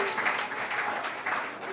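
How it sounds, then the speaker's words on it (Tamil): Audience applause at a church festival thanksgiving service: a short burst of dense, steady clapping from a crowd, fairly loud and continuous throughout. "கைத்தட்டி நன்றி சொல்ல பார்க்கலாம்"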